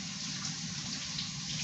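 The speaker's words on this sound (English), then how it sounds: "Always make sure you wash your potatoes in cold water." Cold tap water runs steadily into a kitchen sink as potatoes are washed beneath it, a continuous close hiss and splash with no talking.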